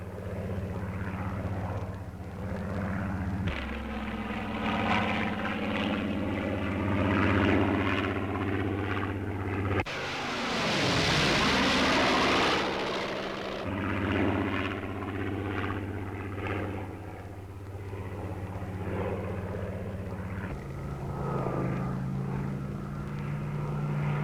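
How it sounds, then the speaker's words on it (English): A Supermarine Spitfire 14 fighter flies past with a droning propeller engine whose pitch shifts as it passes. A loud roaring sweep comes midway, then the steady drone continues at moderate distance. "you'll know that this one is Spitfire 14"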